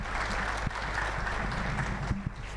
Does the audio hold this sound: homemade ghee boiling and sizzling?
no